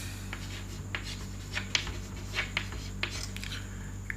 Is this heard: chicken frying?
no